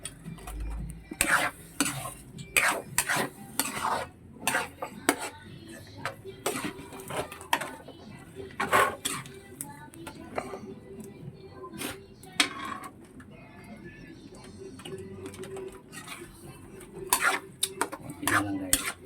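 Metal utensil stirring and scraping stiff pansit bato noodles in a pan, a quiet run of irregular clinks and taps with soft rustling in between, steady throughout and without talk.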